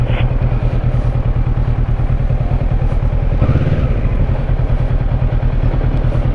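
A Kawasaki Versys 650 ABS Tourer 2018 motorcycle engine runs steadily at low revs throughout as it is maneuvered, close by, with a brief rise in rumble partway through.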